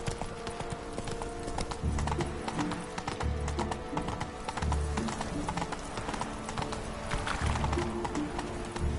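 Hooves of the horse Roach clip-clop in a steady galloping rhythm across ground in The Witcher 3, close and continuous, with faint ambient game sound behind.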